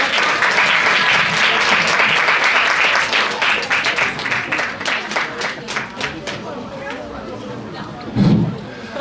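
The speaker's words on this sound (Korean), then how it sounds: "큰 박수로 환영하도록 하겠습니다" Audience applause greets a guest lawyer at a Seoul high school chapel service, dense clapping with cheering that tapers off over several seconds before a brief voice near the end.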